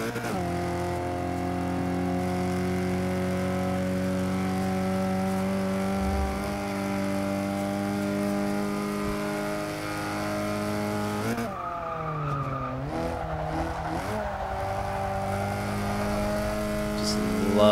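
Renault Alpine A110 racing in Forza 6, its engine droning steadily through gears with rising and falling pitch, a brief tire squeal and shift dip midway, loud and continuous throughout.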